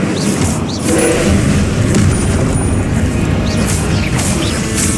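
Fiery Incendio spell cast amid combat in Hogwarts Legacy, a loud sustained roaring burst with booming, crashing impacts filling the whole stretch, a faint voice briefly audible beneath.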